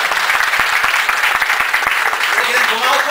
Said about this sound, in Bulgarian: Моля, ако пляскате за него.